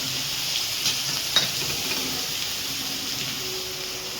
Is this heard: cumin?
yes